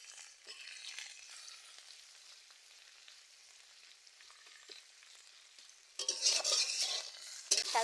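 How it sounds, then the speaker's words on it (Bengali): Chopped garlic and onion frying in oil in a village kitchen, a steady low sizzle that swells into louder crackling bursts near the end. "রসুন কুচি দিয়ে দিচ্ছি তেলের উপর। পেঁয়াজ দিয়ে দিচ্ছি।"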